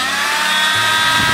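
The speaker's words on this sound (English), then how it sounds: "Using our multi-tool, we will now cut out the block that we've just marked." A multi-tool cuts out a marked mounting block for a transducer during a kayak fit-out, giving a steady, loud, buzzing whine that runs unbroken for a moment with no talking.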